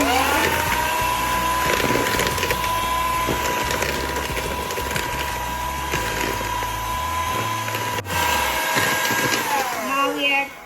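An electric hand beater runs steadily while creaming sugar and other cookie dough ingredients, giving a continuous motor whine with a scraping churn underneath, close and fairly loud, with a short dip near the end.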